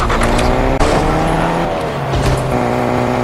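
A car is driven in the video game Fortnite, its engine droning loud and steady with a rising and falling tone and a brief sharp knock near the start, and no talk over it.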